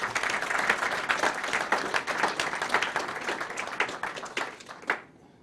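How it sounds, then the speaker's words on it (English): A congress audience at a European business angel network event applauds steadily, many hands clapping in a dense, even wash that carries on for about five seconds, then stops abruptly, leaving a quiet room. "give them all a good applause"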